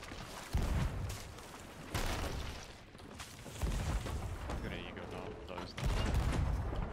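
Gunfire in the pirate game Sea of Thieves during a galleon battle: repeated booming shots and bursts recur across the stretch, loud and dense, with voices talking over the fighting.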